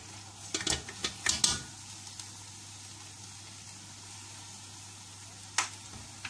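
Rice stirred into sugar syrup with nuts in a pot, with a few quick scraping, clinking stirs up close and a faint sizzle underneath, then mostly quiet.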